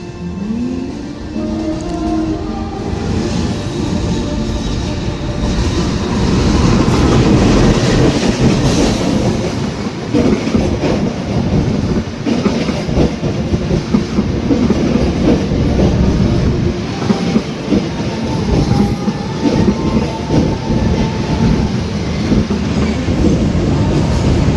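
The Taksaka passenger train in Indonesia rumbles past nearby for a long stretch, wheels clattering rhythmically on the rails with occasional metallic squeals, loud and continuous.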